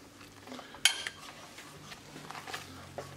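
Chicken sandwich ingredients are mixed in a bowl, with faint clinks and scrapes of a utensil against the dish, one sharper knock early on, quiet and close.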